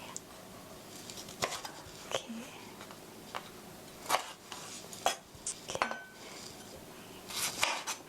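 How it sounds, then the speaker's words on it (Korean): A knife slices pork into bite-size pieces about 0.3 cm thick for a tomato and pork stir-fry, with sharp, separate cuts and taps on the board at irregular intervals, fairly quiet and close. "이렇게 썰어서 이렇게 썰어주세요"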